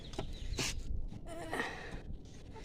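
Large rooster of about 3 to 3.5 kilograms being held in the hands: faint clucks and rustling flaps close by, quiet and brief, with no talk.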